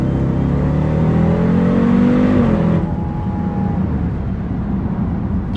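A 700 bhp Jeep Grand Cherokee Trackhawk accelerates hard, its engine note climbing in a loud, continuous roar for nearly three seconds before easing into a steadier, lower drone.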